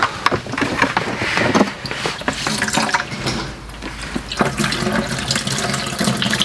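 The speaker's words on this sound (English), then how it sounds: "Yeah, it's leaking right out of this fitting here." Water leaks from a pressure washer hose fitting in a garage, hissing and splashing loudly and unevenly with gushing bursts throughout.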